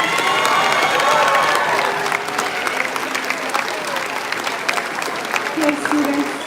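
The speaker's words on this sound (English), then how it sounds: "give our class of 2023 a huge round of applause" A crowd at a middle school graduation applauds steadily, with scattered cheers and shouts mixed in; the clapping stays loud and dense throughout.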